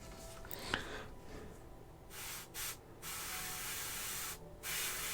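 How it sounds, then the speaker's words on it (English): An airbrush loaded with miniature paint gives short test sprays, each a soft steady hiss that starts and stops abruptly, with brief quiet gaps between bursts and no talking. "then we'll test to see if it's spraying any good"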